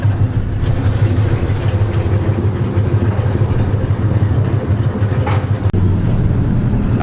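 Cammed Ford Mustang with a mod motor and straight-pipe axle-dump exhaust, mufflers cut off, rumbles loud and steady with a choppy low idle throughout.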